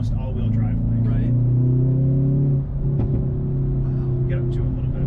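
Hyundai Veloster N engine pulling hard under acceleration, a loud, steady drone that rises in pitch for a couple of seconds, eases briefly, then carries on under occasional talk from inside the cabin.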